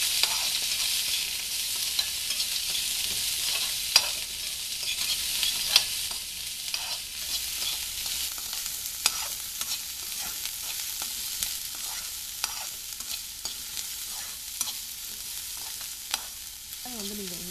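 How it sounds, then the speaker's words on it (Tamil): Curry leaves and onions sautéing with fried brinjal in an oily pan for brinjal varuval, giving a steady close sizzle with scattered ticks and clinks of stirring throughout. "இப்போ நீங்கள் இந்த கருவேப்பிலை, அப்புறம் வெங்காயம், இந்த வெங்காயமும் நீங்கள் ஆட் பண்ணிடுவோம். இப்போ நீங்கள் நல்லா வதக்கிக்கணும்."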